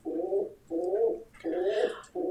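Show pigeons cooing at a regional livestock show in the Northern Free State, four rolling, throaty coo phrases in a steady rhythm, close and clear with faint higher background noise and no talk.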